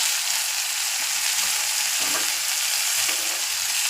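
Curry leaves and mint frying in hot oil in a pan, a steady close sizzle throughout with a couple of brief stirring scrapes and no talking.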